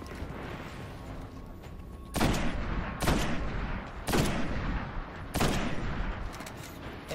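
Combat in the shooter Destiny gives four heavy, evenly spaced gunshot-like blasts after a quieter opening, each one loud and sharp with a short decaying tail, and no voices.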